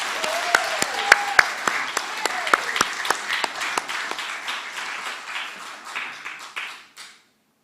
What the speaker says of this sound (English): If we could have another round of applause for all of our nominees, please.